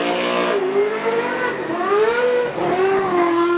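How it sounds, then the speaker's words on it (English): A superstock race car engine roars around a speedway oval during a stock car knockout, its unusual non-V8 note rising and falling in pitch as it accelerates, loud and close, with no talk over it. "That's an interesting sounding car"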